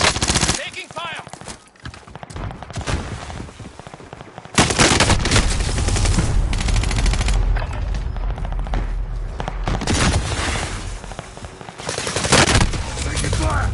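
Loud machine gun bursts and heavy gunfire in a military shooter video game, rattling in long sustained volleys with brief lulls, mixed with in-game radio voice callouts.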